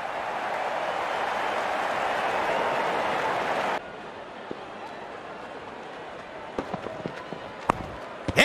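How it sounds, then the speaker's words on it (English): Stadium crowd applauding in the Real Cricket 22 game during a Pakistan versus England Test, a loud sustained roar that cuts off abruptly midway, followed by quieter ambience with scattered sharp knocks. "Full 50 and the crowd applauds."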